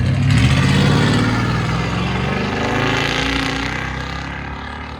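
Chevy Silverado with a 5.7-liter V8 running true dual Dynomax Race Bullet exhausts rumbles loud and close, a deep steady throb that swells near the start and holds strong.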